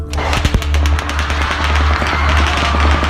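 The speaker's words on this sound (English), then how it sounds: "I can actually still hear the guy shooting." Rapid bursts of gunfire from a shooting at the Route 91 Harvest Festival concert crackle in dense, fast strings of loud cracks over a constant low rumble, with no pause across the whole stretch.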